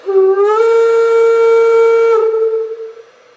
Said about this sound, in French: un peu de bruit, le petit sifflet.